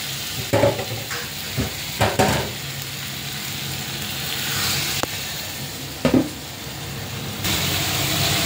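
Meat curry sizzles loudly in a pan as water goes in, a constant hiss broken by several sharp metallic clanks and scrapes of a spoon, the frying noise swelling and settling.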